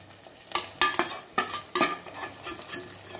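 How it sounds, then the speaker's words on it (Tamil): A spoon stirs potatoes and spice powder through sizzling oil in a pan, several scraping strokes over a steady fry hiss, close and without talk. "சேர்த்துக்கிட்டு நல்லா அப்படி கிளறி விடுங்க."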